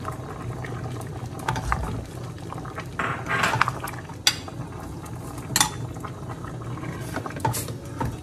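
Beans tipped into a pot of boiling sweet rice dessert, with liquid splashing, stirring clatter and a steady bubbling simmer underneath, moderately close and fairly quiet.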